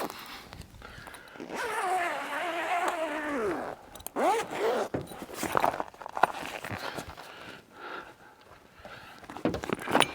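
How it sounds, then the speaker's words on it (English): Several long, rasping zipper pulls open the cover of an OVS 180 awning mounted on a 5th Gen Toyota 4Runner, heard up close with light rustling between strokes. "Unzip this."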